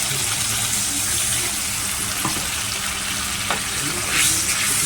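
Hot water poured into frying masala for a rohu fish curry sets off a loud, dense, continuous hiss that holds steady at close range and swells slightly near the end.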